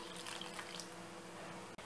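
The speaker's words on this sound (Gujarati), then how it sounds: "અને પછી તેમાં આવી રીતે 1/2 કપ પાણી ઉમેરવું." Water poured into a pan holding tamarind and jaggery while cooking, a faint continuous splashing wash that runs steadily for about two seconds with no talking.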